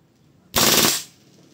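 A WE M4 gas blowback airsoft rifle fires one short full-auto burst of rapid, snappy reports, loud and close, lasting about half a second and then stopping.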